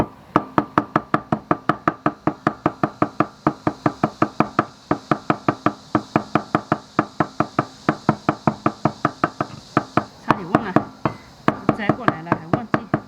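A knife chops small hot chili peppers on a board in a steady, rapid rhythm of close, sharp knocks, with a looser, more irregular run of cuts near the end.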